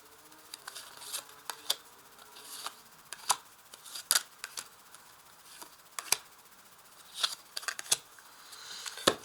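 Tarot cards being shuffled together, crisp close riffling snaps and soft slaps that come in quick irregular bursts, quiet and unaccompanied by speech.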